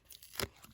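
A sticker peeled off its backing sheet while a Star Wars Lego set is built, giving one short, close tearing rip around the middle of a quiet moment, with faint crinkles just before and after.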